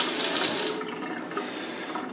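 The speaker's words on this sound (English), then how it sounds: "The water pressure is very good." A Danze Jasper kitchen faucet runs water at strong pressure, a loud, close, steady hiss that softens slightly as the flow shifts, with no voices.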